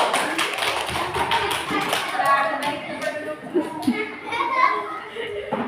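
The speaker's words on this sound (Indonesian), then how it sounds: "Tepuk tangan untuk kelompok 1." Classroom applause for the first student group after their project presentation, a dense run of claps from children with chatter and voices mixed in throughout.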